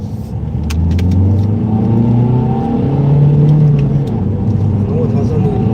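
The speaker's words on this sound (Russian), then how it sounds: "Ну вот газанул." A Volvo car's engine revs hard while accelerating on a winding road, a loud, close, rising drone with shifting pitch that swells and holds for several seconds, with a voice talking over it.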